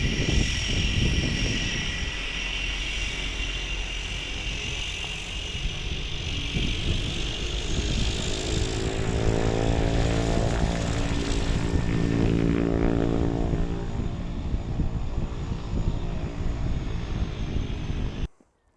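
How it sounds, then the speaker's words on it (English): A Cessna Caravan turboprop airplane flies past near Ritzville, Washington, its steady propeller and engine drone loud and close throughout, sweeping in pitch as it passes before cutting off at the end. "Cessna Caravan."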